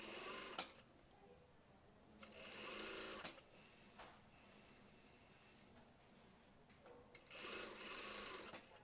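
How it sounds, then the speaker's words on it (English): Sewing machine stitching in an invisible zip, short bursts of fast needle clatter starting and stopping several times, close and quiet, with no voices. "we need to sew down as close as we can to where the seam starts"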